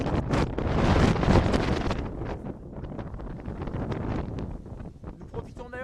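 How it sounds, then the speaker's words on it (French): Strong wind gusts on Mont Aigoual, reaching up to 140 km/h, batter the microphone in loud buffeting bursts and continuous roaring, with a voice speaking underneath. "Et il y a beaucoup de vent au Montégoal aujourd'hui, des rafales qui atteignent par moment les 140 km/h."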